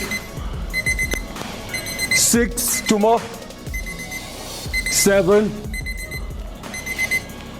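Electronic workout timer beeps ring out at intervals during push-ups, some short and some held, while a voice counts aloud over background music.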